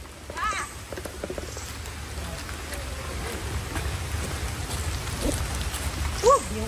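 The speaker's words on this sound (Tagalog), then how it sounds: "Yung ulan." Steady rain falls through a hike outdoors, a broad continuous hiss with scattered drop patter, while voices speak briefly over it and a short sharp sound pops near the end.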